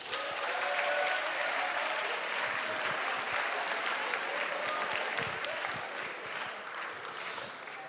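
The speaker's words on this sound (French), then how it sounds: "Sous vos applaudissements, Samuel Rebullard." Audience applause at a school lecture on food choices and the environment, welcoming an agronomist speaker: steady, dense clapping from a hall crowd that holds evenly for several seconds before tapering slightly at the end.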